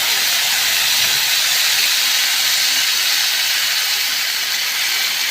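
Water poured into a hot cooking pot sets off a loud, sustained hiss of steam that stays close and constant throughout, like a strong spray.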